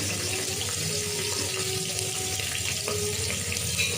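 Green chillies and carrot sizzle in hot oil for semiya upma, giving a steady, close, hissing crackle that carries on without a break and with no voices.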